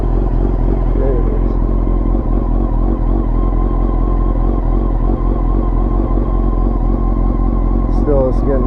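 Honda CBR929RR motorcycle engine idling steadily nearby with a dense, even mechanical rumble throughout, a brief rev flutter near the end, and a person talking over it.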